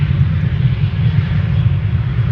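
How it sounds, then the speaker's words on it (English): A KLM Boeing 737-800 bound for Lyon rumbles at an airport, a steady, loud, low engine roar that holds without a break, with no talk. "This is KLM on its way to Lyon, flight 1431, 737-800."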